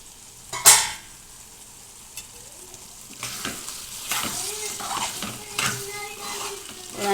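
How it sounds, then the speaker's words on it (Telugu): Biryani ingredients cooking in yogurt in a pot, a soft bubbling sizzle broken by a sharp metallic clink and then steady stirring and scraping of a spoon against the pot. "ఇవన్నీ పెరుగులో ఇలా బాగా ఉడికిస్తున్నాను"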